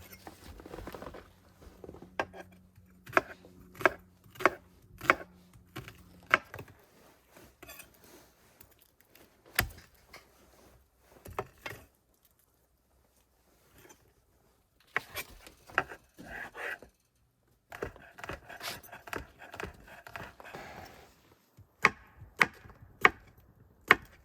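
Rough knife chopping of potatoes on a board in an off-grid cabin during a winter blizzard, heard as bursts of sharp, close chops in quick irregular runs, separated by quiet pauses and softer shuffling, with no talking.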